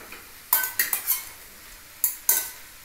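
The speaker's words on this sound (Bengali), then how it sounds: "এখানে আমি কি করছি, দুটো খন্তা ইউজ করছি।" Veg chowmein tossed in a pan with two spatulas, giving several sharp metal clacks and scrapes in quick clusters against a soft sizzle, close and clear with no talk.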